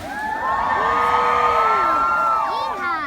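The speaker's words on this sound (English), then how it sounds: "I need you guys to yell, scream, and shout, and make lots of noise." A crowd at the Paradise Cove luau yells, screams and cheers together, with rising whoops and high shouts piled over one another in a loud, sustained burst.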